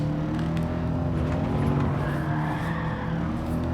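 Race car engine roaring steadily with tire noise as the car slides through an uphill section in Gran Turismo 7, a loud continuous drone throughout with no talking.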